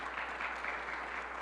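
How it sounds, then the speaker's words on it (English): Crowd applause at a reading event, dense continuous clapping from many people, fairly distant and steady. "So let's give her a round of applause for what she does statewide"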